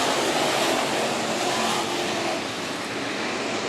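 IMCA Modified race cars roaring off the start on opening night at Bakersfield Speedway, a dense, loud wall of engine noise from the pack that stays steady throughout with no talk.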